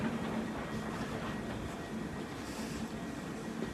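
A freight train rolls past a station in the Pszczyna and Katowice area of Poland, giving a steady, moderately loud rumble and rattle of wagons throughout, with no speech.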